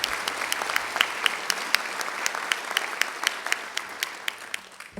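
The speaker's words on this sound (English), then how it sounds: "Can you give them another round of applause" Sustained applause from a conference audience at an opening plenary session, steady dense clapping with some sharper individual claps standing out, moderately loud and continuous throughout with no talking.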